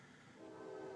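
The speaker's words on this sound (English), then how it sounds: "every time I video, it seems like the train pops up." A train passes in the distance, a steady low rumble growing slightly louder with a sustained horn-like tone emerging midway, heard outdoors with no talking.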